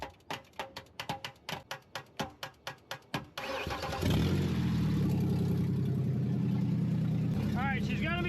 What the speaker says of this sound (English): I'm gonna tap on the starter while you. Yeah, while you have to hold it on.